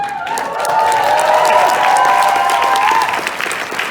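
Audience at the Anime Detour anime convention in 2019 breaks into loud, sustained applause and cheering that fills the room for several seconds, with a high whistle or tone running through the middle.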